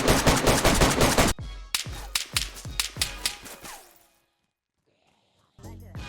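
Rifle gunfire from 7.62 and .308 rounds in the survival game DayZ, fired at walls: a fast, loud volley of shots, then a slower string of single sharp cracks that echo away, a pause, and another burst.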